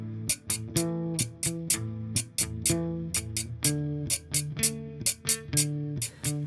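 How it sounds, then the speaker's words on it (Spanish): A güira, the metal scraper essential to cumbia, plays a steady, rhythmic pattern of sharp, bright scrapes and strokes over a repeating bass-and-accompaniment groove, close and loud throughout with no talking. "que es la güira, y suena así"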